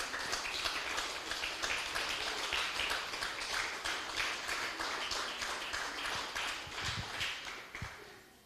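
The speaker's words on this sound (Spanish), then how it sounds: "Denle un fuerte aplauso al Señor, aleluya." Church congregation applauding together after a call to praise, a dense sustained patter of many hands clapping at moderate distance, thinning slightly toward the end with a couple of low thumps.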